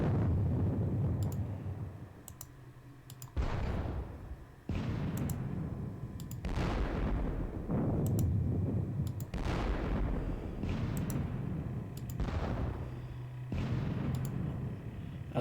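Muffled booms of artillery and gunfire from a Gettysburg wargame come at a slow, irregular pace, each thud followed by a short rumbling tail, fairly faint and with no one talking.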